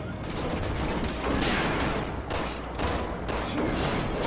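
Rapid gunfire from shooting at an enemy in Resident Evil 6, loud bursts of shots repeating over a steady roar of game noise, with faint voices underneath.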